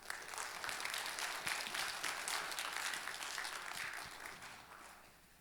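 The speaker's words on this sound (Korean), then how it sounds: "우리 목사님 다시 한번 박수하며 여러분 크게 한번 하십시다" Church congregation clapping for the pastor at a New Year scripture meditation seminar, a steady crowd applause sustained for several seconds before beginning to taper off.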